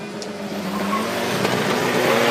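An all-wheel-drive car launches hard off the line at a spectator drag race, its engine roar building steadily and loudly over the noise of the crowd.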